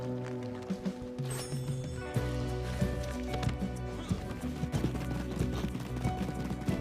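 Horse hooves clip-clop steadily in Red Dead on a PS5 Pro as a horse rides near Lake Isabella. The rhythmic beats run nonstop over a dense layer of game music and ambience.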